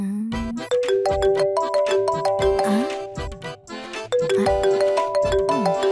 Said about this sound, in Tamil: ஏய் ஃபோன் அடிச்சிட்டு இருக்க பாத்துட்டு பேசாம இருக்க